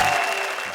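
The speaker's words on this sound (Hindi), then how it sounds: "जरा तालियां बजाइए" Audience applause on a comedy poetry show stage, a dense steady clatter of clapping throughout a short burst without talk.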